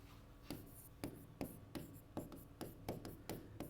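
Chalk writes an answer on a classroom blackboard as a quiet run of about ten short, scratchy strokes in an uneven rhythm, each with a light tap at the start.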